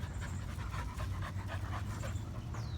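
Several dogs pant steadily and rapidly at a dog park, a continuous breathy rhythm close by with a brief faint whimper near the end.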